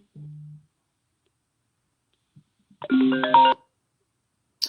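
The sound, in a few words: telephone ringtone ringing during a call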